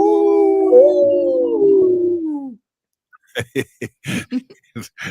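A lone wolf howls, a long wavering tone that slowly falls in pitch before cutting off, followed by a pause and then a run of short separate sounds.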